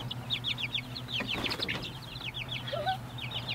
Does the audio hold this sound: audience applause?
no